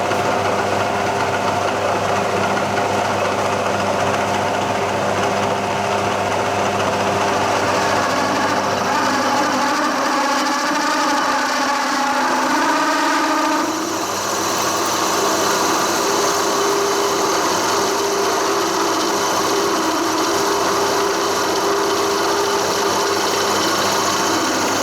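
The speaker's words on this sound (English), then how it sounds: "so I'm just going to drill this" A stub drill cuts a 20mm hole in a rough metal casting on a milling machine, a steady close mechanical whine and hum with a shift in pitch partway through.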